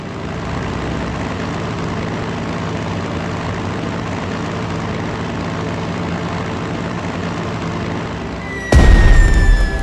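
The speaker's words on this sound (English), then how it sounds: "Now select the bomber. Attack the enemy infantry." A bomber aircraft in Strategic Mind: Blitzkrieg drones with a steady propeller-engine hum, then a sudden louder burst of attack noise near the end.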